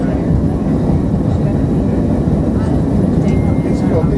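Cabin of an Easyjet Airbus A320-214 landing at Amsterdam Schiphol: a steady, loud low engine and airflow roar fills the interior throughout, without breaks.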